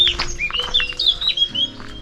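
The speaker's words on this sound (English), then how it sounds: "A very noisy bird, that's fine." A loud wild bird calls repeatedly near a bird hide, shrill chirping and squawking phrases following one another closely, with a low steady background hum and no talk.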